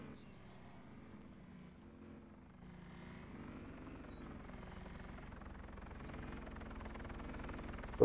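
A small helicopter in a GTA role-play game hums steadily with a low rotor drone, faint and continuous, building slightly louder toward the end with a brief sharp click at the finish.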